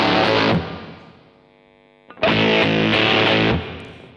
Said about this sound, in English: You can get a lot of interesting shades of distortion or fuzz